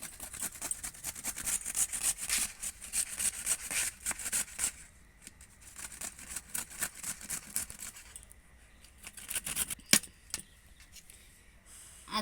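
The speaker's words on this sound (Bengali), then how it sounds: "এবার আদা গ্রেট করে নেব।" Ginger scraped on a kitchen grater while cooking chicken cutlets: fast, quiet rasping strokes in a steady back-and-forth rhythm, close up, with a short pause midway and a sharp knock near the end, no talking.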